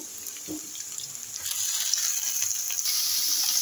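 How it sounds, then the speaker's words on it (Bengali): Shrimp go into a pan of lightly fried chopped onion and garlic, and a continuous hiss of frying builds and grows slightly louder, close and steady with no talking. "এর মধ্যে আমি চিংড়ি মাছগুলো দিয়ে দেব।"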